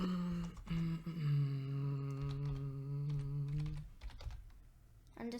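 Someone types on a computer keyboard while working in the Hammer world editor for Portal 2. Scattered soft key clicks sit over a sustained humming tone in a quiet room.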